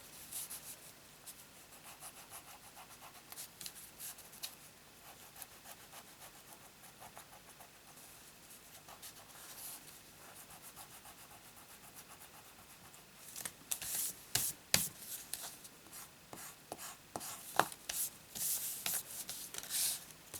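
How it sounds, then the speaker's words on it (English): An eraser rubs pencil marks off card, making soft, irregular scratchy strokes. The rubbing is quiet at first, then grows brisker and louder for the last several seconds. No voices. "So I'm going to remove the pencil marks."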